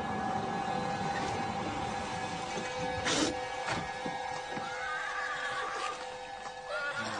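A horse neighs once in a radio play, a loud close whinny standing out over a steady background hum, with a few softer sounds trailing after it.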